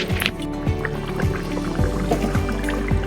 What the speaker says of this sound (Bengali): এখন মাংসটা ঢেলে দেবো।